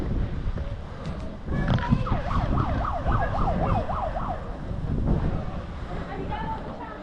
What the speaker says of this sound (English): She has a little siren on it as well.